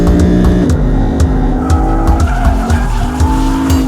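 A 2015 BMW M4 or 2015 Lexus RC F drifts sideways, tires squealing loudly and continuously over a revving engine, close by and unbroken by talk.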